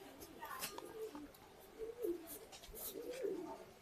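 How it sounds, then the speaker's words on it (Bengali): A Rampuri pigeon, a teddy-type fancy breed, coos repeatedly in soft low rolling phrases close by, with faint sounds in the background. "কিন্তু এই পায়রাটা রামপুরি পায়রা।"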